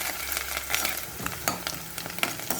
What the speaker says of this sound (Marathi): आता ह्याच्यात आपण एक छोटा कांदा बारीक कापलेला घालतोय, कोथिंबीर आणि हे छान परतून घ्यायचं.